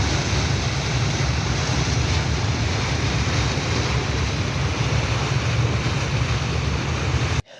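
The Woolwich ferry crossing the Thames at sunset, a continuous roar of churning water and wind buffeting close to the microphone, steady throughout before cutting off abruptly at the end.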